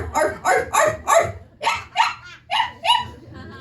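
A human voice imitates puppies barking in a howling song: a rapid series of about eight sharp, yelping barks in two quick bursts, close and clear.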